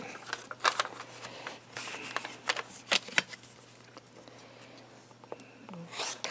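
Scissors cut paper along a fold, close and quiet: a series of crisp, irregular snips and paper rustles against a faint low hum.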